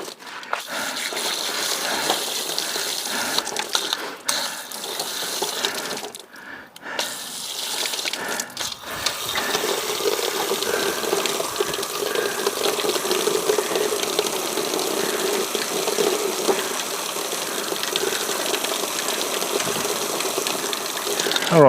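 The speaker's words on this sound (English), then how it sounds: "turn your hose on straight onto your plants" Garden hose spraying water onto plants during a garlic harvest and garden tidy-up, a loud continuous hiss and gush with a few brief breaks early on, with occasional talking.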